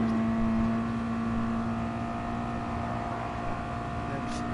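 A Spec Miata in GT Sport holds a steady, loud engine drone in fifth gear on a downhill stretch of the Nürburgring 24h layout, with the revs sustained evenly throughout.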